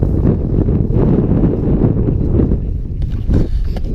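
Strong, gusty wind buffets and roars against the microphone on the mountainside of Sgòr na h-Ulaidh above Glen Etive, loud and continuous with rumbling low gusts throughout.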